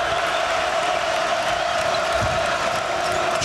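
The Devaney Center crowd at a Kansas at Nebraska college basketball game applauds and cheers in a steady, roaring wash of clapping and voices, loud and sustained throughout.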